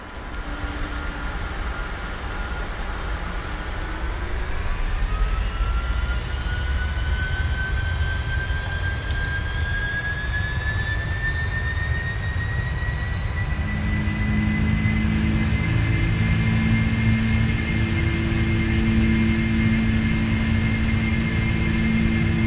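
Airliner jet engines in a flight simulator game spool up for the takeoff roll, a loud, steady roar with a rising whine that climbs and holds, while a low rumble builds beneath it, continuous and close.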